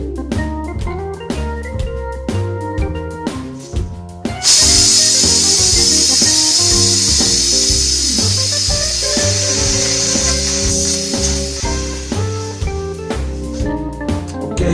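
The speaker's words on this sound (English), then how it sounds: "I'm going to slowly open this valve. You're going to hear a noise. And all it's doing is purging the gas in the line." Gas hissing out of a valve while purging a Sodastream refill line, a steady loud rushing hiss that starts abruptly and holds under music.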